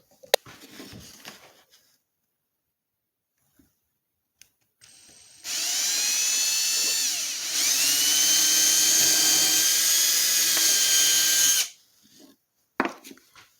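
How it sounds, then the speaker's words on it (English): A power drill whines steadily for several seconds as it bores a hole into a wooden sword pommel, its pitch dipping briefly under load, bracketed by quiet handling noises. "I'm going to drill that hole."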